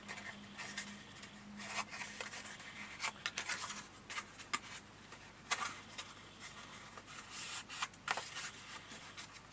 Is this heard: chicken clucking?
no